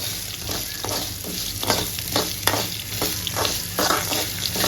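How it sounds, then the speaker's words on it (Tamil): Fresh ginger lightly roasting in a pan for a ginger chutney, producing a constant close sizzle broken by regular scraping and tapping as it is stirred, with no voices. "அது பச்சை இஞ்சி வாசனை வராமல் அளவுக்கு லைட்டாக வறுத்தா போதுங்க"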